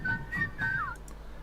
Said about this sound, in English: I'm pretty sure you added your own whistle over there